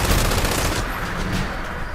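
Rapid gunfire in the video game Fallout 76, a dense burst of loud, overlapping shots in quick succession, continuing without pause.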